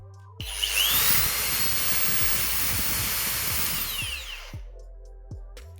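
A Bosch GWS 20-125 SB brushless plug-in angle grinder whines at full speed, then sharply brakes to a stop with a falling pitch, followed by a few clicks and quiet handling.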